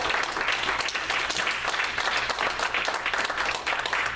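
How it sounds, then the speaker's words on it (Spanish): A church congregation applauds during a sermon, a dense, continuous wash of clapping from a large room that stays even from start to finish. "¿Cuántos dan un aplauso al Señor de la gloria?"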